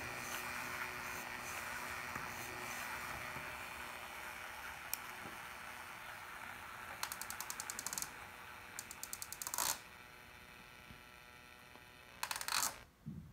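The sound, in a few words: model train wheels rubbing on Woodland Scenics Roto Wheel Cleaner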